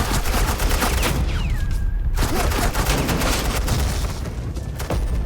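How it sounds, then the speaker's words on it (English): Agents lay down suppressing gunfire in a Batman video game, a dense, loud and continuous rattle of rapid shots with a faint whistling sweep partway through. "Suppressing fire."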